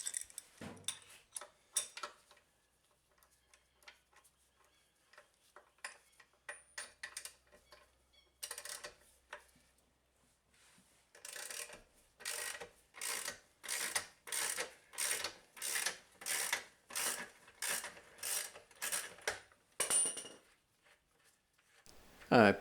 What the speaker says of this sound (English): it's time to take off the back wheel, and that's using a 27mm socket.